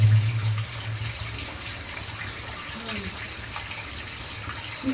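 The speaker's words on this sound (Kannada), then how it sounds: "ಜಾಸ್ತಿ ಜಾಸ್ತಿ ಜಾಸ್ತಿ ನೀರು ಬರುವುದು" Water runs out of a 150-year-old hillside water tunnel in a steady, continuous flow. Nearby rushing sits under a voice, which is heard at the start and end.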